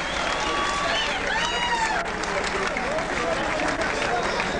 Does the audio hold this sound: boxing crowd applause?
yes